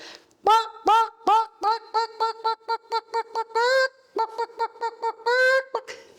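A human voice imitates a hen clucking, with quick rhythmic clucks in bursts and a few drawn-out squawks, clear and close.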